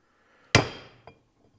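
A single sharp, ringing blow of a 3-pound hammer on air brake parts of a Dexter 15k axle, close and loud, followed by a faint small clink as it decays; no voices.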